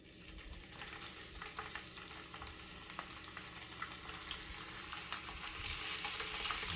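Lamb heart and beef kebabs on skewers sizzle steadily in a single hot pan, a dense crackling fry with scattered sharper pops, growing slightly louder toward the end.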